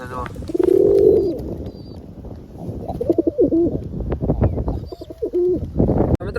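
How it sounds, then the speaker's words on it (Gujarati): Low, throaty coos from two wild pigeons sound close by in several bursts as the birds are handled, with shuffling noises and a short sharp clatter near the end. "બે કબૂતર ને પકડ્યા છે"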